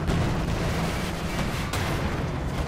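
PaK 40 anti-tank gun firing in the strategy game Company of Heroes 2, a heavy, dense blast of booming artillery with a rumbling low end filling the moment, loud and close, no voices.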